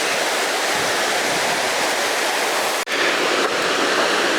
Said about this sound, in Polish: Naszym oczom ukazuje się oto taki właśnie wodospad.